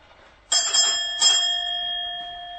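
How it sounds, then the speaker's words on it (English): Two bright metallic bell strikes ring out about three quarters of a second apart, each with a clear ringing tone that sustains and slowly fades, close and alone without talking. "I'm the one who's supposed to be ringing the bloody bells"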